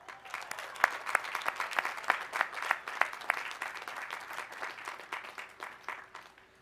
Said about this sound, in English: we still would like to applaud her success